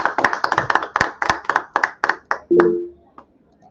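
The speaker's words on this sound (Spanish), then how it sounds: "Un aplauso" An audience at a Spanish-language talk on environmental care and waste claps at the close of the event, a burst of sharp, fairly close handclaps that thins out and ends in a few scattered claps.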